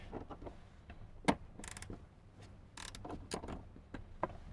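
A 10 mm ratchet works on bolts of a Toyota Tundra, giving quiet, scattered clicks and metallic ticks with small clanks at irregular intervals, close by and faint.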